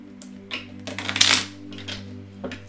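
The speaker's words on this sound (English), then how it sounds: "One more shuffle." A short, crisp riffle of tarot cards being shuffled, a quick flurry of papery snaps close to the mic over a steady low hum.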